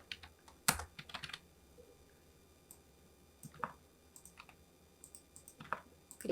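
Text is typed on a computer keyboard in quiet, irregular bursts of soft key clicks, with one sharper tap near the start, close by and with no talking.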